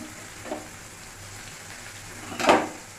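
Onions and bay leaf sizzle softly in oil left from frying bhetki fish. Two brief bursts of stirring or crackling stand out, the second louder, over a steady low hiss.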